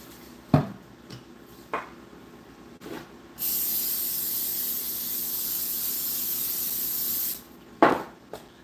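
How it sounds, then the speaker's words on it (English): A few soft clicks and taps, then cooking spray hisses steadily onto a baking pan for about four seconds before stopping, followed by another tap. "I also have to spray this pan."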